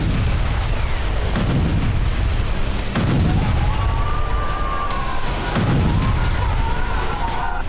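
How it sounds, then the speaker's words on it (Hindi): Explosions from Israeli strikes on Syria boom one after another, heavy low thuds recurring every couple of seconds over a dense, rumbling background. "एक के बाद एक होते ये धमाके।"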